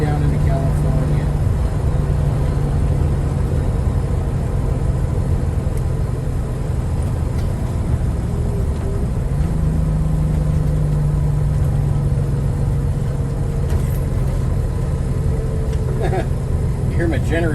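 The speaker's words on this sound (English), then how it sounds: "Yes, we have the generator running because it's hot." An onboard generator drones inside a moving RV on a hot day, a steady low hum blended with road and engine noise, with talk over it.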